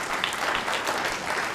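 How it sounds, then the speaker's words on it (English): Stand-up comedy club audience applauding, a dense, steady wash of clapping filling the short stretch at moderate loudness, no talk over it. "Applause isn't necessary"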